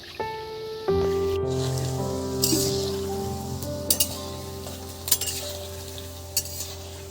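Murali (khurma) dough pieces frying in hot oil, a steady close sizzle with bubbling crackle, occasional clinks and scrapes of a utensil stirring through the pan.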